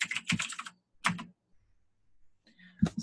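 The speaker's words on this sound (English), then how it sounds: "Type this right here." Typing on a computer keyboard, a few close, distinct bursts of key clicks separated by short pauses of near silence, no talk.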